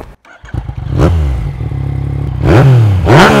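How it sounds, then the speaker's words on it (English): A Yamaha MT-09 with a Scorpion slip-on exhaust starts up and revs hard, the engine barking up and down in sharp swells over a throaty, loud idle, close by with no voices. "the slip-on Scorpion exhaust, which means it isn't suffocated anymore and actually sounds pretty damn good"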